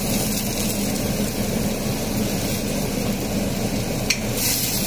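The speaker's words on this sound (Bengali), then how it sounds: "রসুনটাকেও আমরা হালকা আছে ভেজে নেব যতক্ষণ না পর্যন্ত নরম হচ্ছে।" Garlic frying in a wok just after black cumin seeds, giving a steady, dense sizzling hiss that stays even and close throughout, with no voices.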